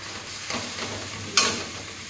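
Spice paste sizzles steadily in hot oil, a continuous soft frying hiss broken by a few scraping stir strokes and one sharper clink near the end, close and moderately loud with no voices.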